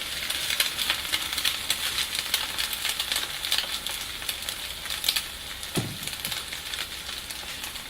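Steady crackling sizzle of French toast frying in a pan, with a soft thump partway through, no voices.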